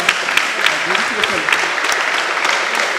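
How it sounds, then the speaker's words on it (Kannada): Loud applause from the audience at the inauguration ceremony of a badminton academy tournament, dense continuous clapping filling the whole moment, close and strong, with a few sharper claps standing out. "ಒಂದು ಜೋರಾದ ಕೈ ಚಪ್ಪಾಳೆ ಕೊಟ್ಟು"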